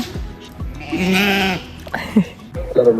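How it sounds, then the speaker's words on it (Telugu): Goats bleating at a farm beside a pond, several loud, close, wavering bleats, one long cry followed by shorter calls, with a voice briefly heard. "ఆ చెరువు పక్కన మేకలు"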